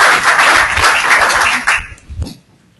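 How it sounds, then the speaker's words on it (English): Audience applause at a professional training session for licensed site remediation professionals, a dense wash of clapping that holds steady, then thins out and fades to quiet. "Go ahead, clap for Barry."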